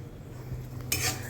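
A spoon stirring and roasting a spice mix with dry coriander in a pan for making bari: a quiet background, then a brief scraping clatter of utensil against the pan near the end.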